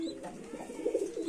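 Rajshahi giribaz pigeons in a loft coo in short, throaty, repeated notes at close range, with no speech.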